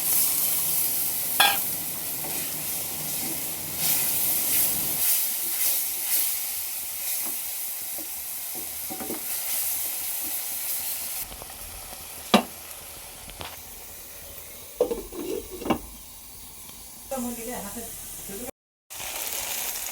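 Spice paste in a hot pan hissing and steaming after a splash of water, with stirring scrapes and clinks of a spoon, a steady sizzle that thins out later amid sharp knocks and a brief dropout.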